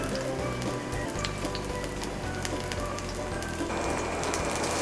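Zucchini fritters sizzle and crackle steadily in a hot oil-filled pan, a dense continuous frying hiss with scattered pops that swells slightly louder near the end, with no talking.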